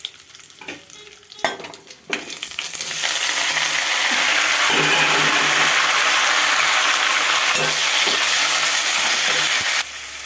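Green chillies dropped into hot oil in a pan for mutton biryani: a few clinks and handling noises, then a loud sustained sizzle and hiss that holds steady for several seconds before easing off.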